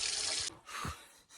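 Water running from a tap in short bursts, a bright hiss that stops and starts twice within a second and a half, close and fairly quiet, with a faint breathy sound between.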